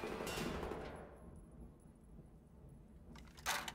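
Video game gunfire in Wolfenstein The New Order: a burst of rapid shots at the start, then a lull before another loud crack near the end.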